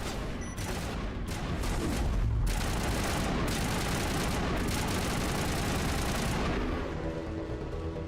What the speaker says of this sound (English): somebody is launching missiles